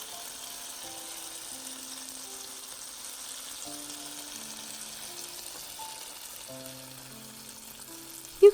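Dosa batter fries in ghee in a pan with a steady, quiet sizzle, plus a single sharp clink at the very end.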